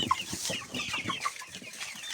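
Older Lohmann Brown hens in a backyard summer coop cluck softly and intermittently at close range, short clipped calls with a few higher notes, no voices.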